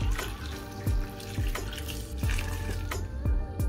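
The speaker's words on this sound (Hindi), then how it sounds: "तो इसके अंदर 1 कप पानी का ऐड कर लेते हैं" Water splashes into a cooking pot for achar gosht, a Pakistani meat pickle curry, in several short pours and drips with a low hollow rumble, close and fairly loud.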